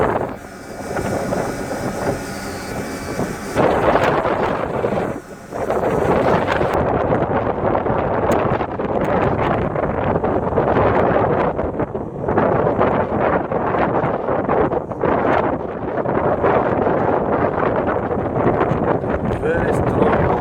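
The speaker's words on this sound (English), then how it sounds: "Very strong wind, very strong." Very strong wind blasts over a boat at sea in bad weather, a loud continuous roar buffeting the microphone with gusty surges and dropouts, while a voice talks over it.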